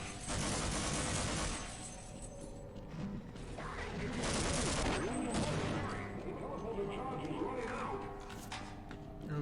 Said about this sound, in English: Let's shoot him.